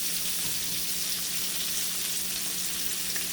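Sausage and cabbage fry in an enameled cast iron skillet, giving off a steady, close sizzle with soft crackling that holds evenly the whole way through, with no voices.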